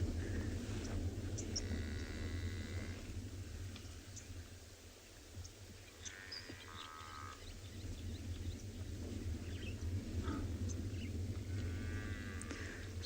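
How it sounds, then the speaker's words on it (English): A herd of African buffalo at a waterhole in Tswalu, South Africa, gives low moaning calls and belches, faint and some distance off, over a steady low rumble of engine and wind. "there's some nice sound of them calling"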